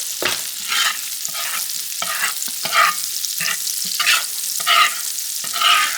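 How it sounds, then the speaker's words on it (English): Butter melts and sizzles in a hot pan for an apple pancake, giving a steady crackling hiss broken by brief scraping bursts as it is stirred to coat the pan. "We'll melt our butter into here. Completely coat our pan"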